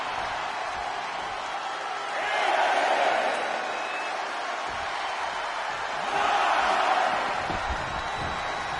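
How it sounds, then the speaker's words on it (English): A wrestling arena crowd roaring during a brutal match between Invader 1 and George the Animal Steele, a steady distant din that swells into two louder surges of cheering. "The sound of this crowd is deafening"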